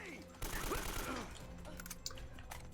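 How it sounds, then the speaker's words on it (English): Blind-fired automatic gunfire in the game Uncharted: Drake's Fortune, a loud sustained burst that breaks into scattered shots and mechanical clicks, with someone talking over it. "will just be running past, blind firing our way through"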